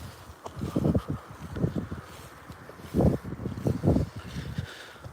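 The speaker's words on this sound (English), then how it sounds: "It's a windy day." Gusty south wind of about 15 mph buffets an outdoor fishing spot, rumbling in loud, uneven bursts against the microphone with quieter lulls between.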